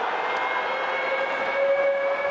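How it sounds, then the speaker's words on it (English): A steady, sustained half-time siren tone holds over the roar of a large rugby stadium crowd in Cape Town, sounding continuously without breaks. "Siren sounds for half-time."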